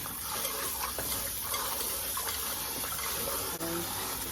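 Oxtail rinsed under running kitchen tap water: a continuous loud close rush of water with small clicks and splashes from the meat being handled.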